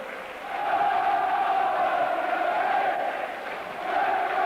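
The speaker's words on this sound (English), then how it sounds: "And listen to that crowd." Crowd at a rugby league match between Hunslet and Workington Town, cheering as a sustained distant roar that swells and stays loud throughout.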